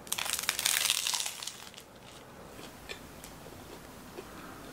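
Biting into a carrot rapée sandwich with whole-grain mustard gives a loud, close crunch and crinkle at first, then fades to softer chewing.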